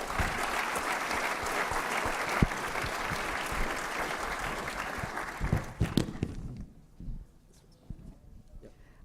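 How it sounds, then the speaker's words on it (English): At the Rice Business Plan Competition, an audience applauds as a speaker is welcomed, with full, sustained clapping that thins into scattered claps and fades to near quiet. "Please welcome, give a big round of applause for Samantha Lewis."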